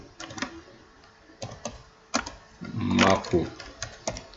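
Light keystrokes tap on a computer keyboard in scattered, uneven bursts, with a brief spoken word among the clicks.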